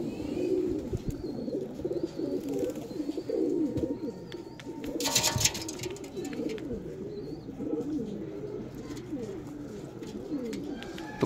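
Pigeons cooing in a home coop, a continuous chorus of low, throaty coos rolling over one another, close and steady, with a brief burst of brighter noise partway through and no clear talk.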